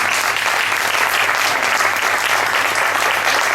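Sustained loud applause from an audience at a Reus celebration event, dense steady clapping filling the room without a break.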